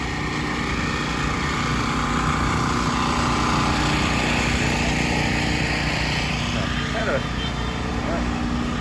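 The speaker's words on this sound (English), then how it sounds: "Even though it's a Sunday night, there's still people doing construction." Steady, loud mechanical droning of street construction on a Sunday night in Cebu City fills the scene, a continuous engine-like roar without pauses.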